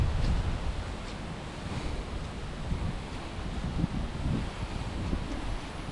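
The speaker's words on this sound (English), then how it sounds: "You see some of this wind blowing." Hurricane Ida wind gusts across Livingston Parish, Louisiana, roaring in a steady, fairly faint wash of broadband noise with slight rises and falls and no voices.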